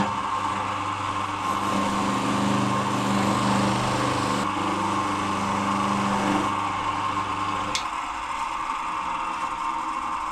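Soft mop buffing wheel polishing a dented two-stroke exhaust silencer, a loud steady motor whine with changing pitch as the part is pressed against the wheel, briefly easing near the end, no talk.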